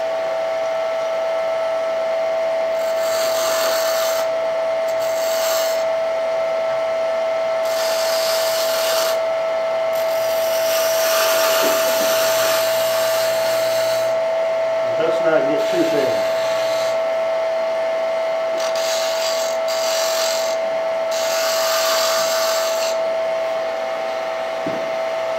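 A wood lathe spins with a steady high whine while a tool bites in repeated bursts of scraping, hissing cuts, close up.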